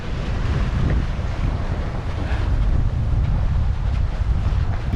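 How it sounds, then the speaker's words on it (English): Wind roars across the microphone on a sailboat sailing close hauled. A steady, loud rush of buffeting gusts mixes with water wash and continues with no talking. "We are sailing on a close haul, which means we are tight to the wind."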